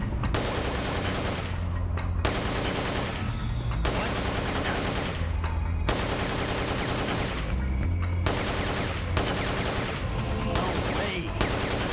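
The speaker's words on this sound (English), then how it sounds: "Just crawl, equip the M63, shoot his legs." Long sustained bursts of M63 machine gun fire rattle in a Metal Gear video game boss fight, several dense volleys broken by short pauses, loud and close with no speech.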